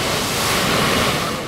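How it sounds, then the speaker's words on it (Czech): Wild Atlantic Ocean surf pounds the rocks a few metres away near a tidal pool at Los Gigantes, Tenerife, a loud, steady, close roar of churning water with no pause. "divoký, nespoutaný Atlantský oceán, který vší silou naráží do skalisek jen o pár metrů vedle"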